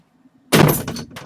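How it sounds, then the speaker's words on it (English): A door is shut with a sudden loud thump after a quiet moment, followed by a short rattle as it settles. "Close the door."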